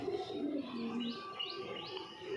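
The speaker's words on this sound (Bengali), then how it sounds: "এই পায়রার লফট" Pigeons coo in a rooftop pigeon loft, a soft, low, repeated burbling that carries steadily through the clip alongside a few faint higher chirps.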